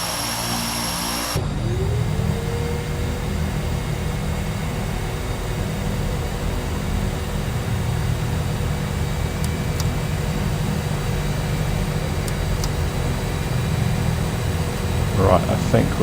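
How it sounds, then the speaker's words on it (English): A DHC-6 Twin Otter turboprop engine in Microsoft Flight Simulator 2020 spools up at full power, a steady loud drone with a rising tone building over about sixteen seconds. "We'll just wait for this engine to spool up a bit."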